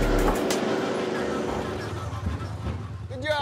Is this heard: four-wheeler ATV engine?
yes